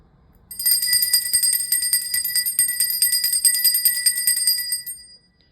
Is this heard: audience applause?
no